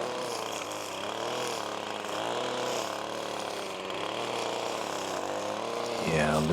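A string trimmer runs along a ditch with a steady, droning engine whine that wavers slightly in pitch, close by, while someone talks over it.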